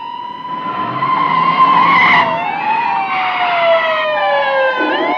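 A police car with wailing, swooping siren races after a fleeing orange Volkswagen, tires screeching loudly over roaring engines in a close, intense chase.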